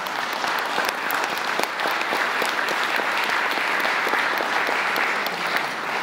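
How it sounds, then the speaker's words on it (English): Mourners at a funeral applaud steadily and evenly for six seconds. The sound is a dense, continuous patter of many hands at moderate loudness, with no break. "I think you can applaud yourselves for that great and noble tradition"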